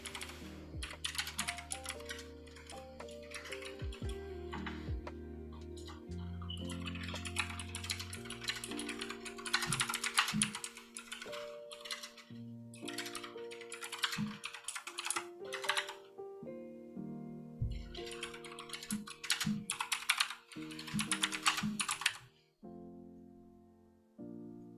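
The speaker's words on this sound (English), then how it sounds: "I'm gonna type this out real quick." Rapid keyboard typing fills the stretch in bursts with short pauses, close and fairly loud, over steady background music.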